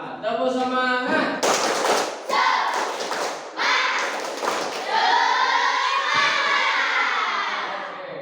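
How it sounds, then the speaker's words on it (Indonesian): A class of schoolchildren performs the "tepuk semangat" motivational chant. They clap in rhythmic bursts and shout in unison, loud and close, with a voiced chant carrying over the claps. "Masih dengan tepuk semangat. Tepuk semangat."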